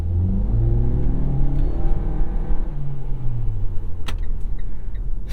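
A 2022 Mitsubishi Eclipse Cross driving on new pavement, with loud continuous engine rumble and tyre roar, the engine note rising and falling as it accelerates, and a few brief clicks near the end.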